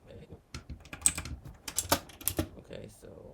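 Clattering keystrokes come from a cheap 20-pound AliExpress mechanical keyboard, typed in quick irregular bursts with short pauses, fairly close but quiet.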